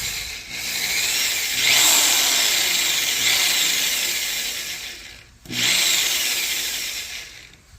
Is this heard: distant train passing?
no